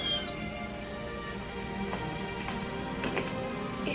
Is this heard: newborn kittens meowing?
yes